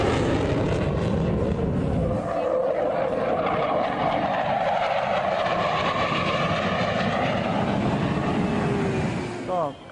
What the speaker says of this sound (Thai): มีเครื่องบินรบ F16 Alpha Jet บินมาทักทายน้องๆ อีกด้วยครับ